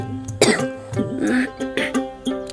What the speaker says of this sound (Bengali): সর্দিটা এখনও কমেনি, কাশি শুরু হয়েছে